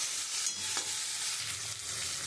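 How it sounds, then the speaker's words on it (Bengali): Pointed gourd stir-fried in a cooked spice masala, a dense, loud, continuous sizzle close up, with soft scraping from stirring and no talking. "আমি পটল দিয়ে খুব ভালো করে একটু কষিয়ে নেব"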